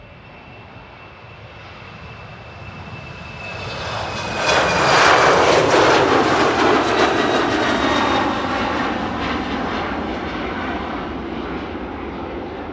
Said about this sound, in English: The KLM 777 is taxiing